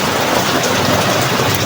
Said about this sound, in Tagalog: At hindi kaya ang lakas ng ulan.